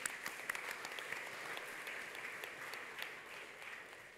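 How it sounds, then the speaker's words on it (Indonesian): A church congregation at a Sunday service applauds for the children, a steady, dense wash of clapping from many hands, fairly distant and even in level, with no voices over it. "Kita kasih tepuk tangan yuk buat anak-anak kita yuk"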